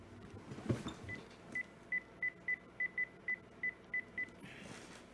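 A home phone number being dialed: a rapid, evenly paced run of about a dozen short keypad tones, close and clear after a brief handling bump, with no talking.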